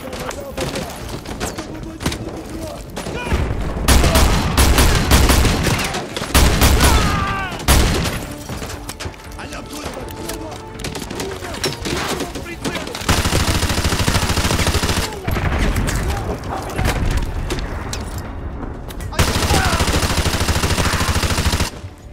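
Sustained L86 machine gun fire in Call of Duty: Modern Warfare 2 Remastered, loud and near, in long bursts with heavy booming low-end impacts, and brief lulls where voices carry over the battle.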